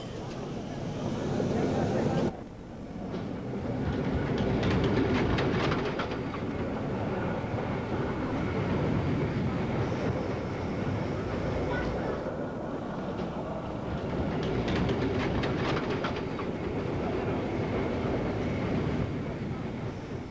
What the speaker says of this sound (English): cavalcade of historic locomotives operating through Rain Hill, site of the original locomotive trials of 1829